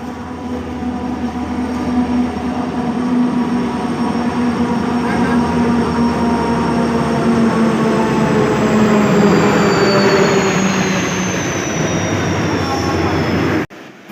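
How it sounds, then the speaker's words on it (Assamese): Train pulling into a station, a loud steady rumble of rolling railcars with squealing wheels and a rising whine throughout, ending abruptly near the close. "ফাইনেলি মানে ট্ৰেইনখন আহি আছে"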